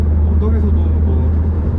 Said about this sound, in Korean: 한 2000rpm 정도만 일단 넘어가면 굳이 기어를 낮추거나 할 필요 없이 그냥 악셀만 조금 더 밟아주는 정도로 가속은 충분히 되네요.